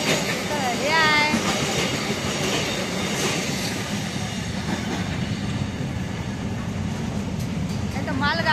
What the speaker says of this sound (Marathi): नाही तर मालगाडी आहे, मालगाडी